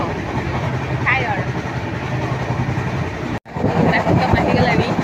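Inside a passenger coach of a running express train, a continuous rumbling roll carries on beneath people talking, with a short break near the middle before the noise returns at full level.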